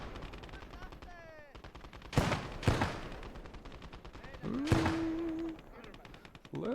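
Gunfire in the WWII video game Gates of Hell: Ostfront: a few sharp, loud shot bursts spaced seconds apart over a low battlefield rumble, with whistling tonal sounds in between.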